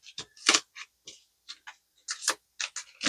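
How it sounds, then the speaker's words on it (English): A deck of cards from the game A Walk in the Woods is shuffled by hand, making a quick run of short, dry, irregular riffling bursts and taps, close and fairly quiet, with no talking. "Let's give them a good shuffle."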